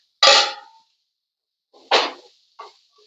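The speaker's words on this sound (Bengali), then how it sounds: "ঢাকাটা খুলে নিচ্ছি।" A metal lid comes off a cooking pot of frying potato, papaya and drumstick vegetables in a home kitchen: three short, bright clanks with brief ringing, separated by silence.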